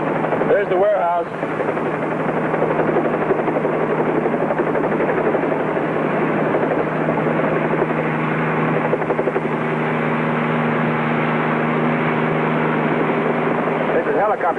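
A helicopter flies overhead with a loud, continuous rotor roar and a dense rhythmic chop that holds steady for the whole stretch, a voice briefly heard at the start.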